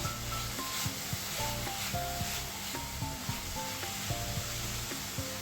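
A spoon stirs modak filling with cardamom powder in a pan, giving soft rhythmic scraping and rubbing strokes over a faint sizzle, with quiet background music throughout.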